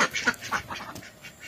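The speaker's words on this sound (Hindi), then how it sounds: "उससे पहले हम लोग का ये बतख सबको देखिए" A village duck quacks repeatedly in a series of raspy, nasal calls, fairly close and loud, with rural background noise and no talk.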